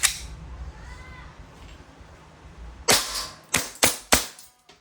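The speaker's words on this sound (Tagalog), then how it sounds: "Testing po, 2011 High Kappa T-Rex. Airsoft po siya, airsoft pistol." A WE 2011 Hi-Capa T-Rex airsoft pistol fired in semi-automatic mode, five sharp close cracks with the last four in quick succession, after a quieter stretch of handling noise and no talking.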